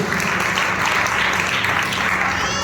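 A church congregation claps in praise during a Sunday service at a Hindi-speaking ministry, a loud, continuous wash of many hands clapping at once, filling the room evenly from start to finish.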